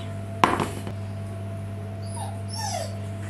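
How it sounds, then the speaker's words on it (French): A dog wanting a taste of a freshly cut olive and ham cake lets out a short sharp yelp, then high thin whimpers and whines, close by, over a steady low kitchen hum. "j'ai le chien qui sent les bonnes odeurs. Il a très envie de goûter."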